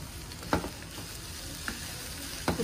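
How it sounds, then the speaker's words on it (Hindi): Pakora mixture for Chinese pakoras sizzling steadily in a pan of oil, with a few clinks of stirring over the continuous frying hiss. "इसको फ्राई कर लेना है ताकि इसका कच्चापन ख़त्म हो जाए।"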